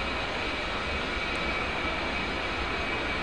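Aircraft engine in the DCS World combat flight simulator, a steady, loud broadband roar with a faint high whine, running continuously and evenly with no voices over it.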